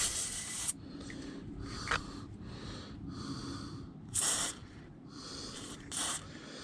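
WD-40 penetrating oil sprayed onto the nut of a front lower ball joint on a Volvo P2 (S60, S80, V70, XC70), heard as several short hissing bursts, the longest at the start, with quiet rubbing and handling noise between them.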